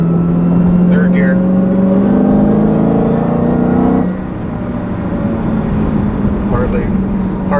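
A 2016 Dodge Challenger Hellcat with a six-speed manual pulling hard in third gear, its loud, close engine drone climbing steadily in pitch before easing back, while someone speaks over it.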